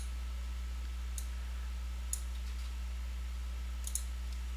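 Faint, sparse mouse clicks in a software editor, a few isolated soft ticks spaced over several seconds against a quiet hum, no speech.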